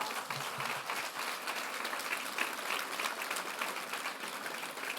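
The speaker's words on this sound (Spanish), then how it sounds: "Dale un aplauso a la primera generación." A church congregation applauds at a conference gathering, producing an even, continuous burst of many hands clapping that holds steady throughout.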